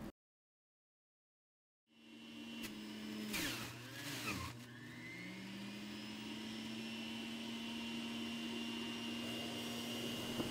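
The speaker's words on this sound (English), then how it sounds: "I will just put the apples in here first and then I will start it up because it's pretty" An apple juicer starts up after a short silence, a steady mechanical whir with a low motor hum, some rattling grinding early on as fruit feeds in, then a constant loud drone to the end.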